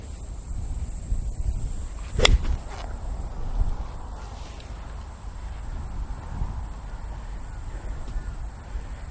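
A golf ball is struck with a club on a practice range, a single sharp crack about two seconds in, with faint outdoor ambience before and after.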